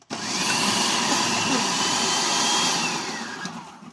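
A blender whirs loudly and steadily for a few seconds as it purees fresh chili peppers for fermented sriracha sauce, with a slight pitch shift as the blades spin.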